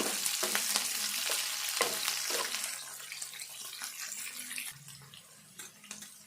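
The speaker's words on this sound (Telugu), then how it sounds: "ఆరు పచ్చిమిర్చి వేసిన నేను ఇవన్నీ కూడా మంచిగా దూరగా వేగనిద్దాము" Six green chillies fry in a pan, giving a bright, hissing sizzle that is strongest at first and then settles lower, with light stirring scrapes mixed in.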